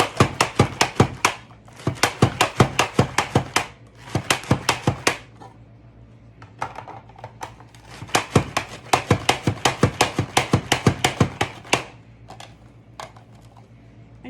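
Pampered Chef rapid prep mandolin slicing lettuce on a French fry cut setting: rapid bursts of sharp chopping clacks in quick rhythmic runs, pausing between batches, close and clear.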